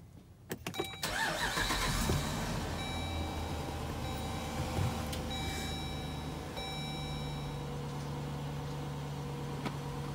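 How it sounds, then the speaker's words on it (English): A 5.7L Hemi engine cranks and fires up, settling into a steady idle with a dashboard warning chime beeping over it, close and fairly loud. "We're just gonna fire it up real quick."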